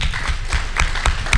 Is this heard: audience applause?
yes